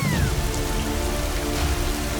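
Rain falls heavily and steadily throughout, a dense, close wash of drops on a surface in an animated Tamil story about a blood rain, with a faint tonal music bed underneath.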